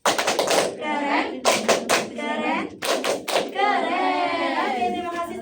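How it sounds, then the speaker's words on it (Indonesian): Classroom students perform a rhythmic clapping chant, sharp hand claps in quick clustered bursts between loud voices calling out the chant, close and energetic throughout. "Kita beri tepuk keren untuk yang berani maju."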